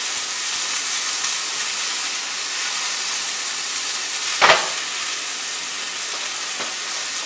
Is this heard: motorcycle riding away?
no